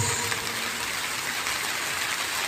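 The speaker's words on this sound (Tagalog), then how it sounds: "Lakas ng ulan" Heavy rain pours in a dense, steady hiss that fills the whole moment evenly and loudly, with no voices.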